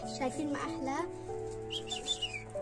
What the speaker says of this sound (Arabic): هذا العصفور اجانا هدية